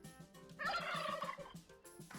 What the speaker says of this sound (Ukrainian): Ось поважний пан індик.